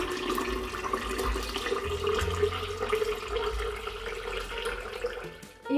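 Water running from a tap into a one-litre jug holding infusion ingredients, a steady moderate gush and trickle that cuts off abruptly near the end.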